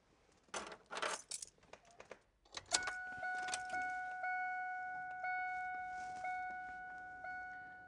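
Car ignition keyed on with the check engine light lit, giving a repeating electronic chime or beep of steady tones after a few clicks and jingles of keys; close and fairly quiet, with no talk.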